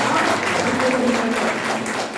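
An audience claps in a dense, continuous patter at moderate loudness, with a faint murmur underneath.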